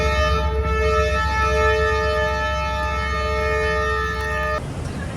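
A train leaving the small Pattoki railway station in Pakistan sounds a loud, sustained horn blast that holds steady for about four and a half seconds, then cuts off, leaving a low rumble.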